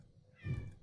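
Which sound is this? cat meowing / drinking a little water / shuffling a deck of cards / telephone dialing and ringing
cat meowing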